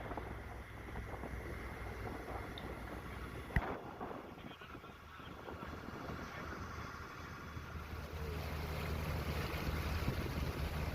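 A boat cruising along the Kottayam–Alappuzha backwaters of Kuttanad, a steady low engine drone with water wash and light wind, continuous and moderately close, with no talk.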